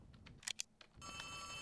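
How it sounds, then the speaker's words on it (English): An old telephone rings in the Poppy Playtime Chapter 3 horror game, a steady bright electric bell that starts suddenly after a few soft clicks and thumps and continues evenly. "Hang on, there's a phone ringing?"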